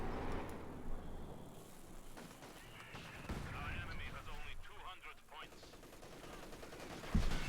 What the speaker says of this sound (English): Machine gun opening up there.